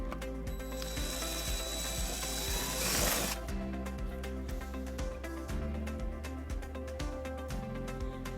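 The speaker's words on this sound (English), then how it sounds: "and then we'll drill our second hole." A power drill runs steadily throughout with a rattling, ratcheting whir, drilling a hole in a 2011 Mazda CX-9 bumper, swelling briefly midway, close and fairly loud.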